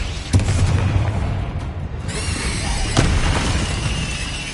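A Confringo blasting spell explodes in a wizard video game, with a loud booming burst early on and another sharp blast about three seconds in, over a dense rumbling game soundscape.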